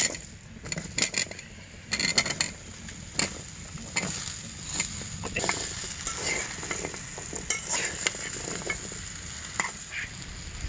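Vegetables tumble into a pan of fried mung dal and sizzle steadily, with scraping stirs and clinks of a spatula against the pan throughout; no talking.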